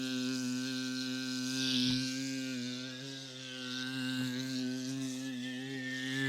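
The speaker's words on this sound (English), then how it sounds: "Flies buzzing around in surround sound" Buzzing of a fly circling a room, rendered as a sound effect: a continuous droning hum that swells and fades as if it moves about, moderately loud throughout with no talking.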